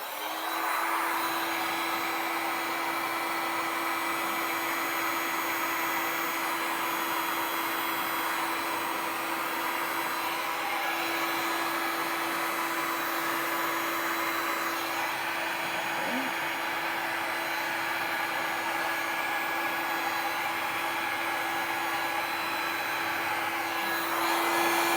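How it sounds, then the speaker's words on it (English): A heat gun blows steadily over a beach-and-ocean-themed resin square tray, giving a continuous close whooshing airflow with a faint steady whine that runs unbroken for the whole stretch, with no talking. "Alright, one more time with the heat gun."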